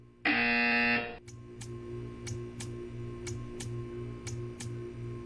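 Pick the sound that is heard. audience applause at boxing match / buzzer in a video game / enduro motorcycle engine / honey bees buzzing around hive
buzzer in a video game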